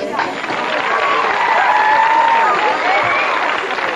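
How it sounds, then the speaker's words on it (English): A loud, sustained round of applause from the audience at a 1994 Baha'i conference in Greenlake, Wisconsin, dense clapping with crowd voices and some cheering mixed in throughout. "Let's give them some room and a round of applause"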